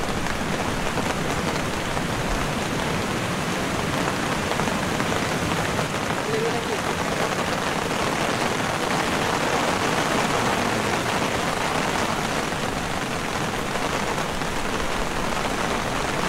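Heavy rain pours steadily during a camping trip, a dense, even broadband hiss of drops drumming on surfaces, with faint low rumbles that may be distant thunder and some indistinct voices mixed in.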